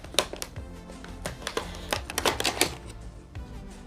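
A knife cuts open the top of the retail packaging for a Nyko Shock N Rock Game Boy Color, making a quick series of close, sharp crinkles, snaps and scrapes with no talking.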